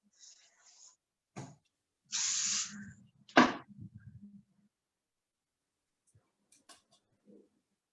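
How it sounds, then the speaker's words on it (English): Hairspray misted onto styled hair from an aerosol can, a few short hissing bursts, one longer spray of about a second, near and clear amid quiet handling noises. "I'm going to just spray this."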